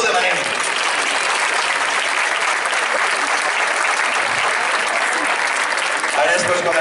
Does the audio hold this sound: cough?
no